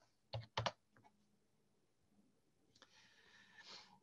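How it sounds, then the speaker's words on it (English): Keys tapped on a computer keyboard while entering a project number into data software, a few quick isolated clicks near the start followed by quieter shuffling sounds. "Simple as taking and typing in the project number"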